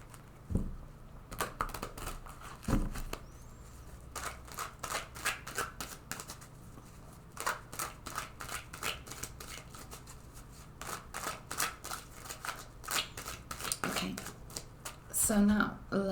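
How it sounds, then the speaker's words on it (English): A tarot card deck is shuffled repeatedly by hand, producing quiet, crisp riffling bursts in irregular clusters, close and soft, with brief pauses between shuffles. "let's shuffle this deck several times"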